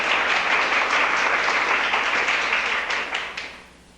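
A church congregation claps together in sustained applause, a dense, even patter that fades out near the end, with no speech over it.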